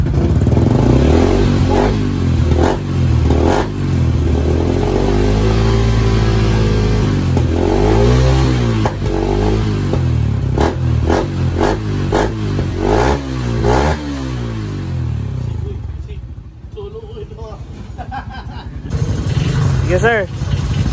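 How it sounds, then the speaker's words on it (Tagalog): Yamaha R6 motorcycle with an Exos exhaust pipe, its packing worn after two years and refilled with new fiber, revving repeatedly up and down close by. A loud, rasping engine note rises and falls throughout, easing off briefly near the end. "So ito na po yung sound check ng Exhaust R6 na may fiber, bagong fiber."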